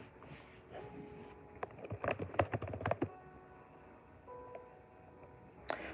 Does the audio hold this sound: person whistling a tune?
no